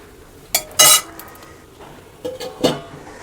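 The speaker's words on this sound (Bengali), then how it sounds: "আমি এবার এটাকে 5 মিনিট জন্য চাপা দিয়ে দেব।" A lid clanks onto a pot of bottle gourd and shrimp curry with potatoes, giving a couple of sharp metallic clinks followed by a softer second set of knocks a moment later, close and fairly loud in a quiet kitchen.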